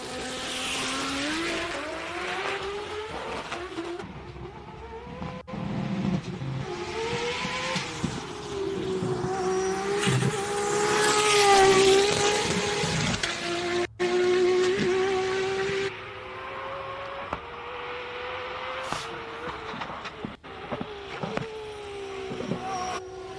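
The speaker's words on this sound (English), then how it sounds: "It is the loudest car ever that you could ever hear." Race car on a full-throttle hill climb run at Simola HillClimb, its loud engine screaming and rising and falling through gear changes and corners, close and sustained throughout with no talk.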